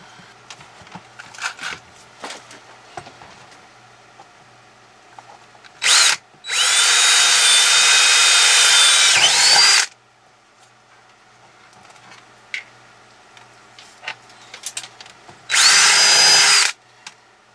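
Power drill boring a hole for a 12-volt power supply in a studio build, heard as a short burst, then a sustained three-second run, then another brief burst, loud and close with quiet workshop handling between.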